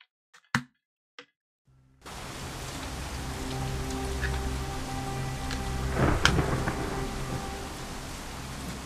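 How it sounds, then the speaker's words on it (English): A storm on the Tai Po dock in Shadowrun: Hong Kong, a few sharp clicks, then steady heavy rain with a low thunder rumble that builds and cracks louder past midway, with no voices. "Cold rain lashes your face as you take your place on the Tai Po dock. The storm is loud, practically deafening."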